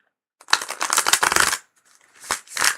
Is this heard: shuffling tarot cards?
yes